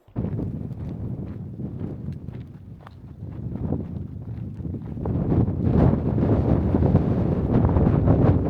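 Wind gusting across an open mountain trail near Snowmass Lake on a cold, sunny day, a steady rushing roar buffeting the microphone and swelling louder toward the end, with no voices.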